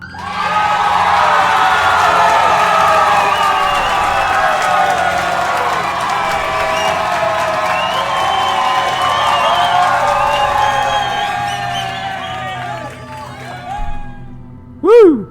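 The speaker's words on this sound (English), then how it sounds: "thank you for the great cheering and clapping" A live student audience cheers and whoops loudly in a continuous swell of overlapping voices, fading toward the end before a final short burst.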